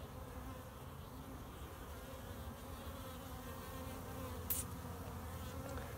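Dense, steady buzzing of honey bees around an open hive during an autumn inspection before wintering, a close continuous drone with one brief sharper sound near the end.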